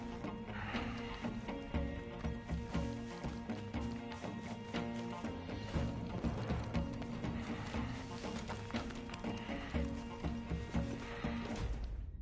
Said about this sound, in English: Get on the horse.